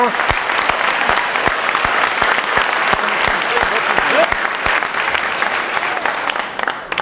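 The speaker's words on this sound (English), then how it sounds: "how about a huge round of applause to the class of 2024?" A large crowd at a senior banquet applauds the class of 2024 with long, sustained clapping, crisp nearby claps popping out over the dense roar and easing slightly near the end.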